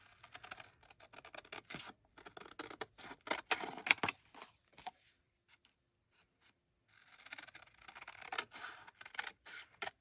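Scissors trim journaling cards with bursts of crisp snipping and paper rustle, close and quiet, broken by a silent pause midway before the cutting resumes.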